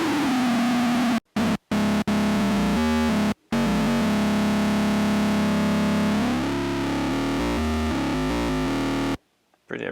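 Roland SE-02 analog synthesizer with its distortion engaged before the filter, a loud, buzzing distorted tone with shifting pitch and several abrupt cutoffs and restarts.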